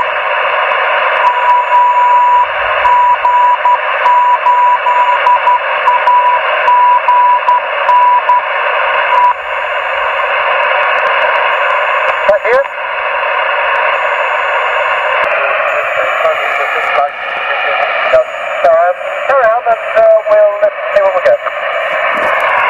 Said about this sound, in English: you can certainly hear his CW